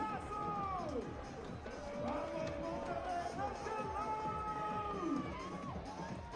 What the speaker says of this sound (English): Great crowd on hand at Cardinale Stadium.